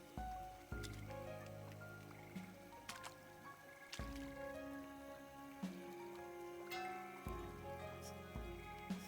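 Rain in the video game Diluvian Winds: soft, scattered squishy drips and droplet taps fall irregularly, quiet and close, over a faint sustained tonal background.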